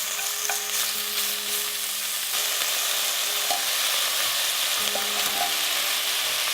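Thinly sliced beef scraps fry in a pot for tonjiru, a constant close hiss and sizzle with occasional soft stirring clinks, and no voices.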